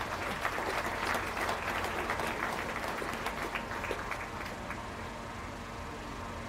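Crowd applause in a show arena at a county fair beef cattle show, quiet and distant, a steady patter of clapping over a low hum that tapers slightly toward the end.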